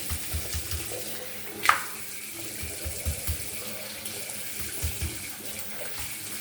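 Tap water runs steadily over an aquarium filter sponge being rinsed, a continuous close splashing wash with a brief knock partway through.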